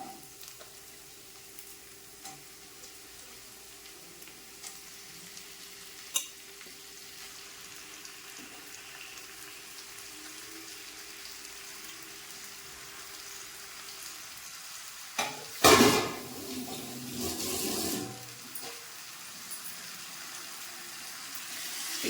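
Washed chicken tipped into a hot pan and sautéed, producing a low, steady sizzle for a long stretch, then a sudden louder burst of splashing sizzle and clatter near the end as the pieces land and are stirred, with no talking.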